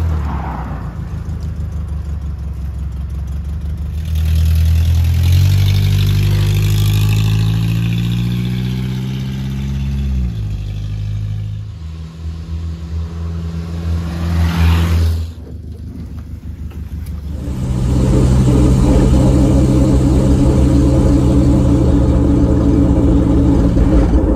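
A lowered Toyota van runs and drives off loudly up close, its engine rising and falling in pitch through gear changes before settling into a steady higher cruising drone.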